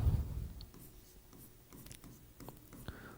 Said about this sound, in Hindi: इस बात को यहां पर हम लिख लेंगे